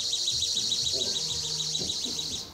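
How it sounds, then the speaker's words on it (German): A loud, continuous high-pitched electronic alarm tone rings out aboard the Symphony of the Seas cruise ship, pulsing steadily with faint voices and low background noise beneath it. "Ja, das war der Alarm."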